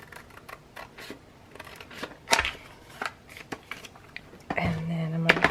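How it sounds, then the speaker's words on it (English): Scissors snip apart small paper pockets in a handful of separate, crisp cuts spaced over a few seconds, heard up close with a soft voice in the background. "I'm just going to trim them apart."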